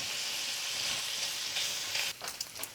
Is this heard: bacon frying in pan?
yes